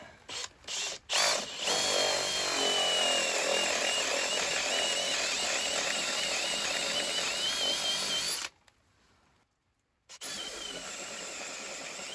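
A 1.5 inch Forstner bit in a power drill bores a housing into wood, a loud steady high-pitched whine running for about eight seconds, cutting out briefly, then resuming.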